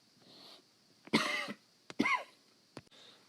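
A person coughs twice close by, each a short harsh burst, with a faint click afterward and no talk.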